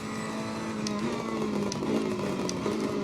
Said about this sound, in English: Oh, I do love that sound, that backfire there.